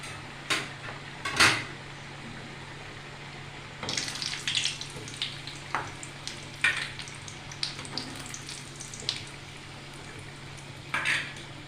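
Fish frying in a little oil in a pan, a continuous low sizzle broken by bursts of louder spattering and occasional utensil clatter, heard close with no speech.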